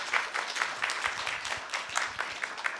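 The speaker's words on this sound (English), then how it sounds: "let's give a hand of applause to our speakers" Faint applause from a small workshop audience for speakers, a thin patter of claps continuing evenly throughout.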